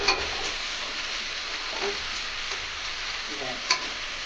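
Banana flower curry is stirred in a pan over a steady, fairly quiet sizzle, with a few soft scrapes and a light clink near the end.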